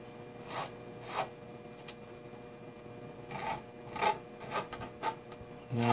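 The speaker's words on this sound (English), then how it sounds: "what I'm doing is just lightly running the file very carefully in there" A hand file is run lightly and carefully to smooth a part of a Shuttle Tydirium scale model, making soft intermittent rasping strokes, several short bursts close by with pauses between and no talking.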